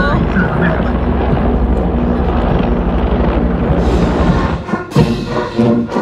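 Military helicopters flying over an army parade in Chile, a loud steady rotor drone with engine rumble filling the whole clip, while an announcer talks over it.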